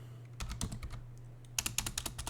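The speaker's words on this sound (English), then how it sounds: "I'm just typing the notes here" Notes being typed on a computer keyboard for a Linux editor, a short quiet burst of clicking keystrokes in uneven rhythm, with a faster cluster of keys near the end and no talk.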